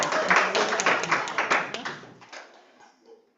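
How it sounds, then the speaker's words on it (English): An audience at a school board meeting claps for the board, a burst of scattered clapping from a room of people that fades out over about three seconds. "Everybody give our board a clap."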